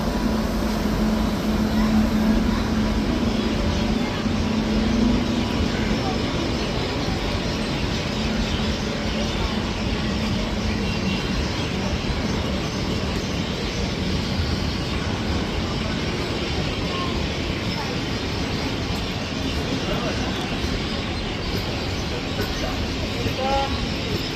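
A WAG9 electric locomotive from New Katni Junction hauls a Holi special fare train into Belgharia station, a continuous broad rumble of rolling wagons heard close by throughout.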